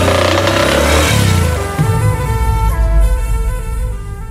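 A car engine, freshly bought but secondhand, starts and revs loudly and steadily up close, a low rumble swelling then settling into a sustained drone with no talk over it.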